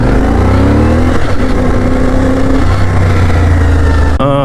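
A CFMOTO IBEX 450 adventure motorcycle pulls away, its engine loud and close with rising and falling revs through short gear pulls, and a brief noisy burst at the end.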